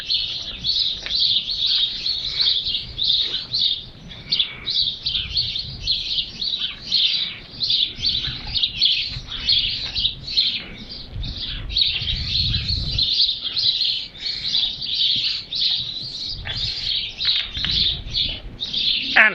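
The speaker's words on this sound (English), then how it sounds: "Bulgarian sparrows." Sparrows in Bulgaria chirping continuously in a dense, busy chorus of short, high tweets, close and lively throughout, with occasional soft rustles beneath.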